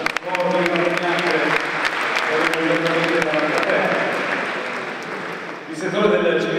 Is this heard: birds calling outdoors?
no